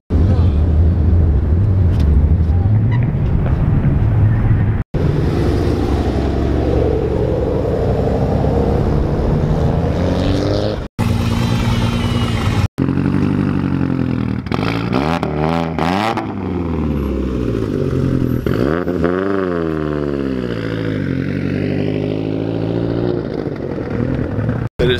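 Performance cars, including a red Mitsubishi Evo X and a Nissan GTR, idle and occasionally rev while queued in a cold outdoor tech line at a track, a loud, rumbling engine drone with clattering and abrupt cuts.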